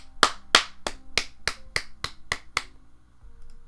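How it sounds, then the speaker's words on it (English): A man at a desk in a classroom claps his hands for attention: nine sharp, evenly spaced claps over about two and a half seconds, close and crisp, followed by near quiet. "sits up from his desk, clapping his hands for the class's attention"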